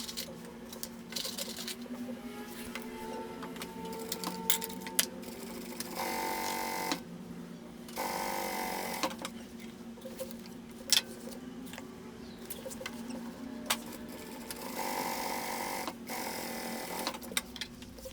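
Sewing machine stitching a seam on a fabric tote bag, a close mechanical whir that runs in several bursts of a few seconds each, separated by short pauses.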